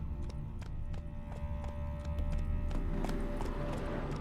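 Roach, a horse in the video game The Witcher 3, gallops with a steady rapid clip-clop of hooves under game music, moderately close, the pace growing a little louder toward the end.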